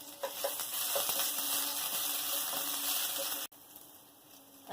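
Chili hits hot oil for tempering, giving a loud, close crackling sizzle that runs steadily, then drops away abruptly and resumes more quietly.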